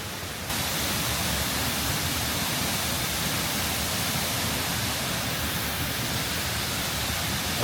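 Waterfall on Lombok rushing in a steady, loud, broadband roar that fills the whole stretch without pause, close by and with no voices over it.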